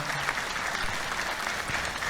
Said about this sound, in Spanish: Le damos un fuerte aplauso a San Roque